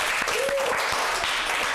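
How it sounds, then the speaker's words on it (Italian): An audience at an outdoor Italian town event bursts into dense, steady clapping, loud and sustained throughout with a whistle rising briefly early on. "Facciamo un applauso"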